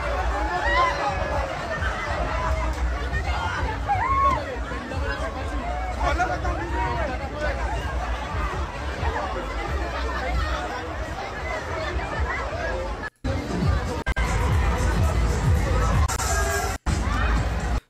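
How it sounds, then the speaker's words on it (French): A dense crowd at the Foire du Trône funfair in Paris fills the air with continuous chatter and babble, punctuated by scattered shouts and a few sharp bangs, with voices talking close by. "Oui, là, la foule, elle est incroyable, quoi."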